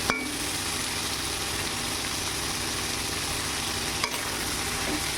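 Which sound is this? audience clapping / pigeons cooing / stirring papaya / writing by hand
stirring papaya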